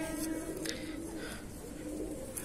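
Andhra and Madrasi pigeons coo in low, soft, throaty rolls over a steady background hum, close and continuous.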